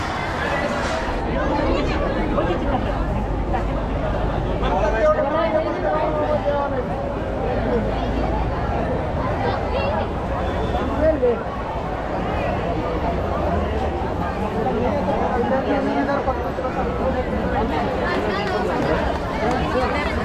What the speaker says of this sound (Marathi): आज रविवार असल्यामुळे भरपूर गर्दी आहे